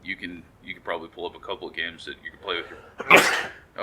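A single sharp, loud sneeze bursts out near the end, following a stretch of ongoing conversational talk.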